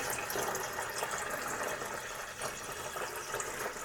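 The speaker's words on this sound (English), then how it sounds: "So I'm going to add some of our remaining water" Water pours steadily into a 1 gallon mead fermenter, a continuous close splashing rush with a faint bubbly texture and no one talking.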